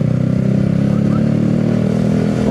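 A Yamaha R15 V3 sport motorcycle, about three years in use and secondhand, idles close by with a loud, steady, rapid engine throb that holds even and unchanging throughout.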